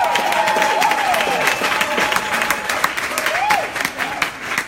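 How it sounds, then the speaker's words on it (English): An audience applauds steadily at a live event, with clapping throughout and a voice talking over it. "Can we just hear another round of applause for Ian Somerhalder?"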